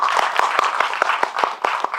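An audience at a Korean film screening Q&A claps in a quick, even burst of sharp, distinct hand claps, close and lively, lasting a couple of seconds.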